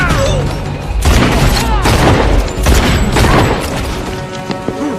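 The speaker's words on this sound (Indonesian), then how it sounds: "Ketika mereka sedang reload senjata, saatnya giliran Alex yang menembak mereka" Gunfire and heavy booming blasts in an action film shootout, loud bursts of shots and thuds recurring through the scene with no speech.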